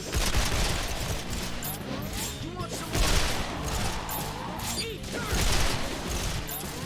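Dense, continuous video-game gunfire with rapid overlapping shots and crashes, loud and close throughout with no pause.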